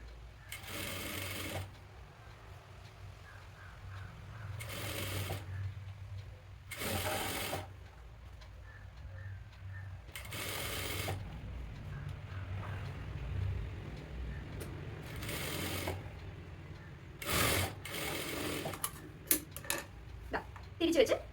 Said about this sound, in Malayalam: ജസ്റ്റ് തുണി എടുത്ത് സ്റ്റിച്ച് ചെയ്ത് കൊടുക്കുക